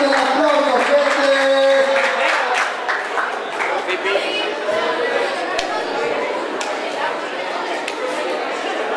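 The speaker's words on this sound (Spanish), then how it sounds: "Fuerte el aplauso, gente." Crowd at an outdoor freestyle rap battle in a plaza claps amid loud chatter and cheering; scattered claps and voices carry throughout, with a brief shout or vocal tone near the start.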